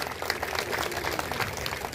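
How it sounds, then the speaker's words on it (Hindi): A crowd at a Buddha Purnima festival gathering in Etah claps to welcome the chief guest, a dense, steady wash of applause that continues for the entire moment without any speech. "जोरदार तालियों से स्वागत करिए।"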